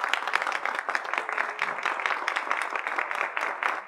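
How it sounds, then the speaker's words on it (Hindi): A TV studio audience claps steadily for a Padmashree awardee, with dense, continuous applause lasting throughout at moderate loudness and no talking on top. "जोरदार तालियां।"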